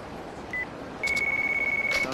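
A phone being dialed in the game Yakuza Kurohyou 2 gives one short beep and then a longer steady electronic tone over a low background hum.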